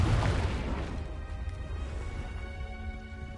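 The Confringo blasting spell in Hogwarts Legacy detonates with a single heavy boom, a deep rumbling explosion that starts loud and slowly decays into a fading roar.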